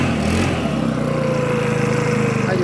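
Makita BHX2501 petrol leaf blower with its engine revved up, a loud steady high-speed drone held throughout, close by.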